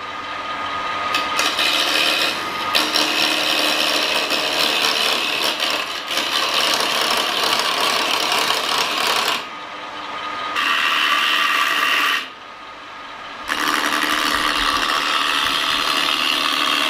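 A vintage Woodfast wood lathe spins as a chisel cuts the turning wood, a harsh continuous rasping scrape broken by several short pauses where the tool lifts off.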